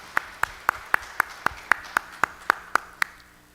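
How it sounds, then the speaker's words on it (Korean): A church congregation claps for a Sunday morning worship service, the claps landing in an even, brisk rhythm, a dozen sharp beats struck in unison, fairly close and clear over a quiet room. "우리 하나님께 영광의 박수를 돌려드리겠습니다."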